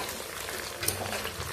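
Oil sizzling and crackling in a pan, a steady frying hiss at close range with a small pop midway.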